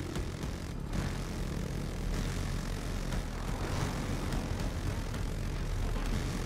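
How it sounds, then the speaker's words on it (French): Helicopter in the Battlefield 2042 video game, a loud steady rotor and engine drone that continues throughout without a break, with no talking over it. "On va se remettre dans l'hélico."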